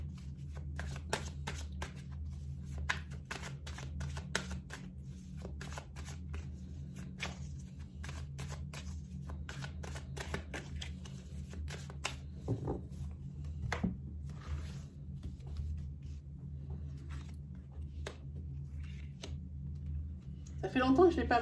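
Oracle cards shuffled by hand for a tarot-style reading, a steady soft riffling and sliding of card stock that runs throughout at close range, with a low background hum underneath.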